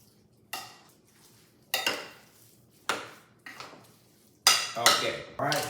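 A ground chicken and black bean burger mixture being mixed in a bowl: five or six separate bursts of scraping, clattering stirring with short quiet gaps between them, close by.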